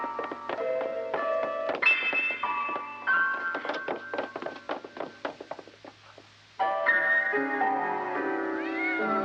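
A small kitten gives a run of short, high meows in quick succession, with a hollow knock or two in between, close by and fairly loud. A longer cry follows after a brief pause.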